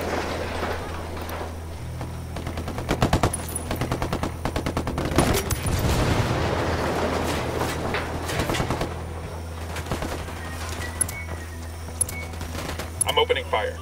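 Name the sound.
gunfire in a video game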